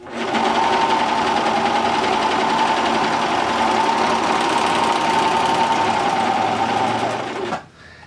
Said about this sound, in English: So I'm just going to go ahead and serge off the edge of the fabric here.